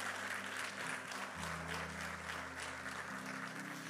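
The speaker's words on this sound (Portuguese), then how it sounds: "Pode aplaudir a Jesus, se você crê nisso." A church congregation applauding during a sermon, a broad continuous wash of many hands clapping under a low sustained hum of instrumental tones, steady and fairly loud.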